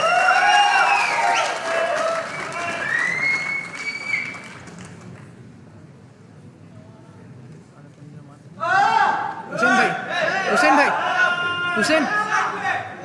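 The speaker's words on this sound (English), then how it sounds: "Let's put your claps for Hussain Bhai." Audience applause for Hussain Bhai at a Consolidated Xelerate 2022 corporate event, a burst of clapping and crowd noise at the start that fades, then swells again loud and dense in the final seconds, with talk mixed in.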